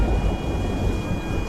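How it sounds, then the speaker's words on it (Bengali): Thunderstorm with rain: a dense, steady wash of heavy rainfall with a deep low rumble underneath, continuous and loud for the whole short stretch. "সারা আকাশ কালো করে শুরু হলো ঝড় আর বৃষ্টি"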